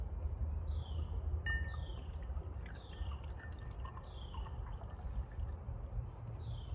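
Homemade wildflower cider poured from a bottle, a steady soft stream of liquid with light dripping and faint fizzing, close and alone.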